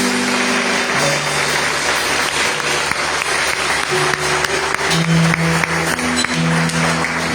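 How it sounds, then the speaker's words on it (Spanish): A church congregation bursts into sustained applause during a sermon, steady clapping filling the room over a faint musical tone underneath. "Vamos a dar un aplauso a Jesús en esta hora."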